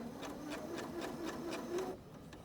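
A Janome sewing machine stitches a button onto fabric, its needle thumping in a fast, steady run of about eight even beats before stopping abruptly, close and alone with no talking.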